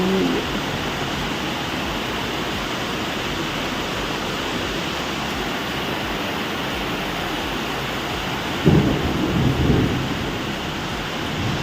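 Heavy rain falls in a steady, close hiss while thunder rumbles, with one louder rolling crack of thunder near the end; no one speaks.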